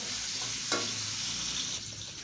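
Pork, garlic and onions sizzle loudly in a hot pan for kinamatisang baboy, a continuous close frying hiss with a brief scrape of stirring and no talking.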